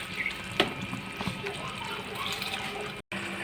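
Rice tipped into a pot of boiling water for fried rice makes faint sloshing and bubbling water sounds, close but quiet, with a brief dropout near the end.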